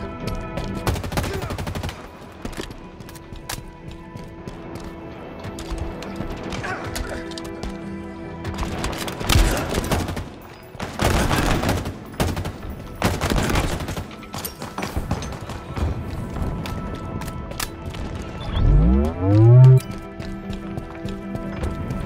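Gunfire from Halo Infinite closed beta multiplayer, scattered shots and bursts amid game effects and a galloping, clip-clop-like rhythm, with a few louder blasts near the end.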